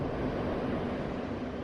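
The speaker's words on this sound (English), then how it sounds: "what you hear is mostly wind noise as the parachute's descending through the atmosphere" Wind noise during a parachute descent through Titan's atmosphere: a steady, broadband rushing roar, faint and unbroken, with no distinct events.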